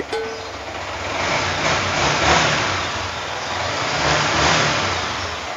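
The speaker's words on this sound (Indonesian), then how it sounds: "biar speakernya lebih jelas dengerin mesinnya" A motorcycle engine idles steadily close by, a continuous rumbling drone with slight swells, no voices.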